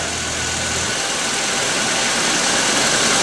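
A Volkswagen Passat engine idles steadily close by, a smooth continuous hum with a faint lifter tick that eases slightly partway through, no voices.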